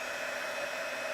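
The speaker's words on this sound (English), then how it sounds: "So I'm just going to get my heat tool" Heat tool for embossing blowing hot air over embossing paste and powder, a constant close, even whirring rush.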